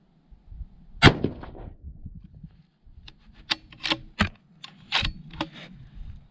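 A Howa Mini 1500 bolt-action rifle fires a Hornady 108gr ELD round in 6mm ARC, giving one sharp report followed by a scatter of lighter clicks and mechanical clatter from the action.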